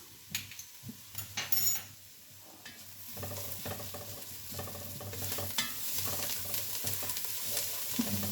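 Chopped onion with garlic ginger paste fries in a pan, with a close, continuous sizzle broken by scraping stirs and light clinks of a utensil against the metal.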